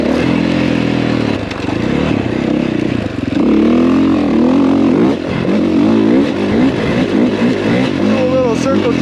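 A dirt motorcycle revs hard while riding around an OHV pit, its engine rising and falling in pitch with repeated throttle bursts, loud and close, with a voice talking over it.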